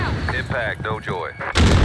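Airstrike explosions in a chaotic military shooter video game: a wavering, whistling whine gives way to a loud, close blast that fills the last moments with heavy rumbling.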